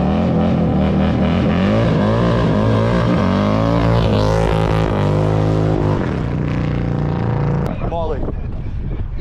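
A 180hp Harley-Davidson motorcycle at a bike night, loud and close, revving hard and pulling away with rising and falling engine pitch, crowd noise and wind around it.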